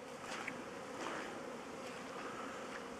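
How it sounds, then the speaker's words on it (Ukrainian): Queen bees fly around an apiary in a steady, soft buzzing drone. Faint passes of single insects come and go over a continuous hum outdoors, with no voices. "От маточки літають."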